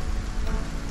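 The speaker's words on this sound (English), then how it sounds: "Rita, it's raining out." Rain falling in the survival game Stranded Alien Dawn during autumn, a brief, steady patter of drops on surfaces with a soft low rumble beneath and no talk.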